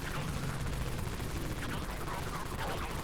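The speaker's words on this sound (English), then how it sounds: "Let me try the Wraith Cannon here." Rapid bursts of Wraith Cannon fire from the Dead Frontier video game form a dense, continuous barrage of booming shots that lasts the whole short stretch.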